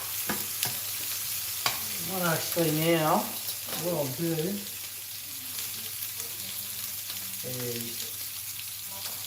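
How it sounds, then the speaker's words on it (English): Lamb fries in a pan with a steady, hissing sizzle that runs the whole time, close and fairly loud, while someone talks over it in short phrases. "Oh, that was sizzling."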